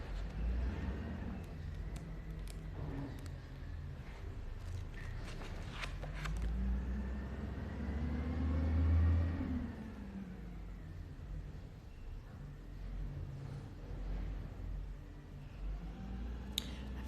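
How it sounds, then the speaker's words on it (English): Garbage truck making its trash day rounds outside, a low rumbling engine that swells and fades with occasional clanks and thumps, somewhat distant and muffled. "Forgot it was Tuesday until I heard the trash truck."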